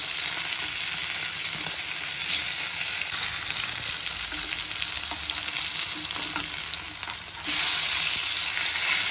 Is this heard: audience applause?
no